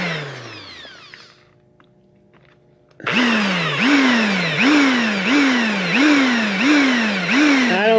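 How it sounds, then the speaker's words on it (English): A power drill boring a hole during repair of a 1960 Johnson 10 outboard's broken tiller pin, starting with a brief whine, then after a pause running loud with a repeating rise-and-fall pitch as pressure is applied. "you can do this on a drill press"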